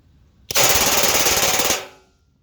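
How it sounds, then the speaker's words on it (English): Crosman DPMS SBR CO2 BB rifle fires a single fast full-auto burst of about twenty shots, a loud, close, even rattle lasting over a second that stops abruptly and leaves a short fading tail. "20 shots coming down, full auto. Firing."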